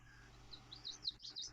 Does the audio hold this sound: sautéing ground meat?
no